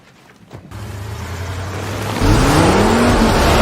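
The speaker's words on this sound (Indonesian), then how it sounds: "saat mereka melaju, beberapa mobil mulai mengejar mereka" Cars in a film chase scene roar past, with engines revving and rising in pitch as they accelerate. The noise builds from a low rumble into a loud, dense wash of motor and road noise.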